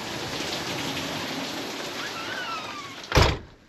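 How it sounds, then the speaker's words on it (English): Heavy rain pours steadily outdoors after pea-size hail, a dense close hiss throughout, broken near the end by a single sharp thunk. "Still raining pretty hard"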